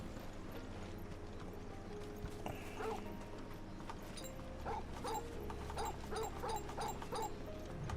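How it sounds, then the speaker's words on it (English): A dog barking in the video game Final Fantasy XVI, several short barks repeating in a quick series against hooves clip-clopping and soft game ambience, faint. "I did not realize Torgal barked every time you swapped over the menu to him."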